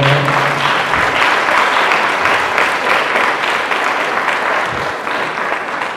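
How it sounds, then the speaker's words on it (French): A church congregation applauds steadily and loudly throughout, a dense wash of clapping that barely changes before easing slightly near the end. "Applaudissez pour une fois."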